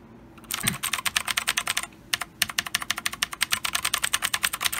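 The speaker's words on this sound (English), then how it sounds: "Alright, do a little typing test." Rapid typing on a Gamdias P1 RGB mechanical gaming keyboard, crisp clacky keystrokes in fast bursts with one short pause, close and loud.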